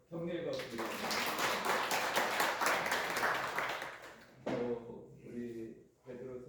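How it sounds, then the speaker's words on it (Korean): A congregation at a Wednesday worship service claps in encouragement. The applause swells quickly and holds for several seconds, then fades as a voice resumes speaking over the last of it. "우리 한번 격려해 박수드립니다."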